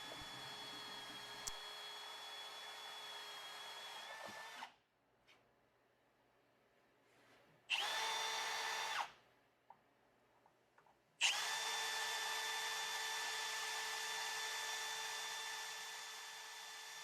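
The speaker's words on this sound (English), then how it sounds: "We are now following up with a larger drill bit to widen the hole so that the rib nuts will fit in there." A power drill bores with a larger bit to widen a hole in a Jeep's metal for rivet nuts, loud steady whirring bursts separated by short pauses, close up.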